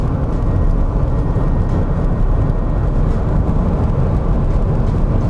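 A Renault Zoe 50 electric car with a 72 kW motor accelerating at full throttle from inside, a dense, steady low rumble of road and wind noise that stays loud and even throughout.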